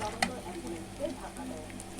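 Onions sizzle steadily in hot oil in a pan, turning brown, with a continuous close crackling hiss and a few brighter pops scattered throughout.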